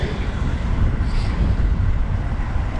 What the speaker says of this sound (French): Oh, il y a un de ces vents froids là.